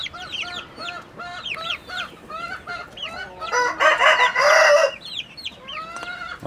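A mother hen clucks repeatedly while her chicks peep in quick, high chirps, with a denser burst of mixed clucking and cheeping midway, all close and lively with no talk.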